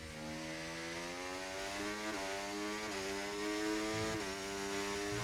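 Formula 1 racing car engine in a video game during a wet-weather race in Hungary, a high, harmonic whine with several upshifts, fairly quiet and sustained throughout, with no talking.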